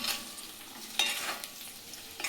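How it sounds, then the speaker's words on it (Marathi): Aluwadi pieces turned gently in a pan, soft frying sizzle with a few light stirring scrapes and taps over a couple of seconds, no voices. "यामध्ये आता आपल्याला अळूवड्या सोडायचे आणि हलक्या हाताने आपल्याला अळूवड्या वर खाली करत अशा परतवून घ्यायचे"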